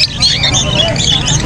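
Many budgerigars squawk and chatter together at a pet market, a dense, loud, continuous mass of sharp chirps close by, with people talking underneath.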